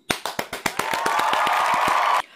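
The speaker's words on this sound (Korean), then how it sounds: "일단은 박수 한번 치고 갈게요" Hand clapping during a plastic canvas bag-making session, several sharp separate claps at first that quickly blur into a fast, steady burst of clapping before stopping abruptly; close and loud, with no talking.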